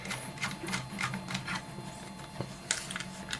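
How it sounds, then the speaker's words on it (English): A ratchet wrench clicks rapidly as an M8 bolt is run down into its nut on an Aston Martin Gaydon-era airbox delete kit, a close, dense rattle of fast repeated ticks with a brief heavier knock. "pop our M8 bolt in, and if we just tighten it up until it grabs the nut"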